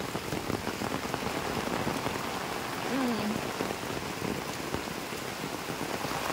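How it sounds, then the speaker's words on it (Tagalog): Heavy rain pours down in a dense, continuous roar of drops hitting surfaces nearby, steady throughout with a faint voice briefly under it. "Lakas ng ulan."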